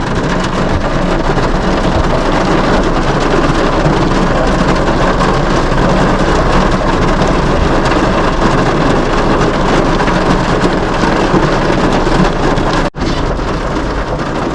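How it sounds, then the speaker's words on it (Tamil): Heavy rain pours steadily during Cyclone Fengal in Chennai, a loud dense roar of downpour with thunder rumbling throughout, broken by one brief sharp dropout near the end. "சிவியர் கண்டிஷன்ஸுங்க, மழை பொழக்குது."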